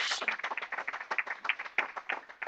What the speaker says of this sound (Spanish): Dele un aplauso a esta palabra, mi hermano